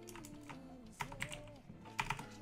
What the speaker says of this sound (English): So you want to type this command in.